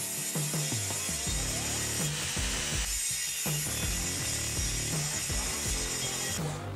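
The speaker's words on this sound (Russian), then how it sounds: "Сейчас мы его отрежем и проверим, насколько ровно режет." A powerful three-in-one woodworking machine's saw cuts through a spoiled piece of plywood, a loud steady whine with rhythmic ratcheting, grinding texture, close and continuous throughout without speech.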